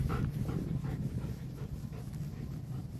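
A dog pants steadily in quick, soft breaths close by during obedience follow training, with faint whimpery tones and no talking.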